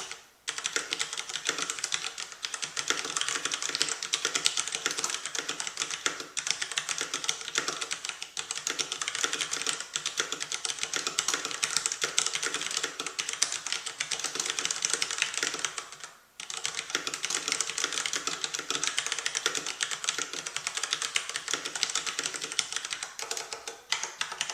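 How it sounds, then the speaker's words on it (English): Steady, fast typing on a Filco Majestouch-2 mechanical keyboard with Cherry MX Brown switches, dense clattering keystrokes with keys bottoming out, close and continuous with one brief pause midway, no voices. "So let me do a little bit of typing here so you can hear what they sound like."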